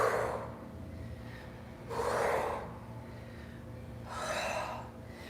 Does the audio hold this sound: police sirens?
no